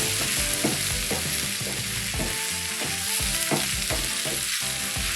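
Corned beef hash fries in fat over high heat, a loud, steady sizzle and crackle filling the whole clip, with scraping and stirring clatter rising over it now and then.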